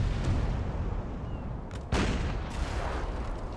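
Warship cannons firing in a Napoleon Total War naval battle in the Mediterranean, a heavy rumbling barrage with a sharp, loud boom near the middle over continuous low battle noise.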